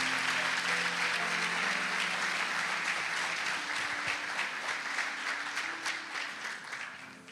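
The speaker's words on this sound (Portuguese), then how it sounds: "Vamos dar um aplauso a Jesus?" A church congregation claps together in sustained, dense applause that stays steady and full, then slowly fades toward the end.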